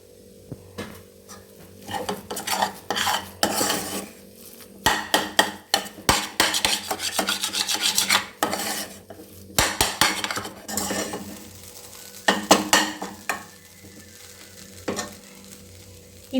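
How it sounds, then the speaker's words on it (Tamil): Egg kothu idly being stirred and chopped in a pan, with loud, repeated metal-on-metal clanks and scrapes in irregular bursts over a steady sizzle, close and without talk. "அப்படியே கலந்து விட்டுட்டே இருந்து இப்படி பண்ணிகிட்டே இருக்கணும்."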